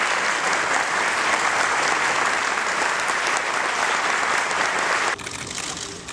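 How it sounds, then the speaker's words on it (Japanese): Audience applause at a Seibu stock exchange relisting ceremony, dense steady clapping filling the room for about five seconds before dropping to a quieter tail. "拍手でお送りいただければということでお願いいたします"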